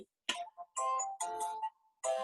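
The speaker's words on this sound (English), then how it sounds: "Yeah, that's my phone." A mobile phone ringtone goes off during a prayer group gathering, a short electronic melody in several separate bursts, fairly faint, with no talking over it.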